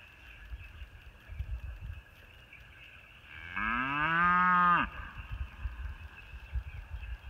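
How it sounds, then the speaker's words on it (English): A single long, loud cow moo rises and falls over about a second and a half, with faint outdoor rumble and rustling before and after. "The neighbor just put his cows in here."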